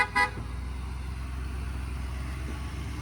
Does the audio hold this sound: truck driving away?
yes